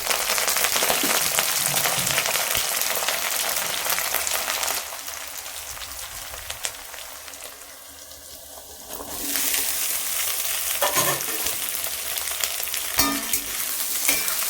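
Mustard seeds, cumin, onion and curry leaves sauté in hot oil for a home-style sambar and kovakai poriyal lunch, giving a steady close sizzle with stirring scrapes that dips softly midway before returning loud.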